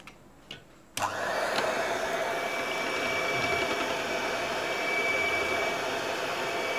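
An electric hand mixer whirs steadily as it beats egg whites for a chocolate cake, starting abruptly after a second of quiet and holding a loud, even drone to the end.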